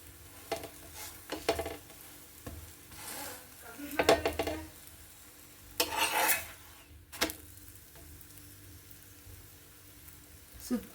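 Aloo paratha frying on a pan, with a soft steady sizzle under repeated scraping and clinking of a spatula against the pan, plus one louder burst of hissing, close by and without talking.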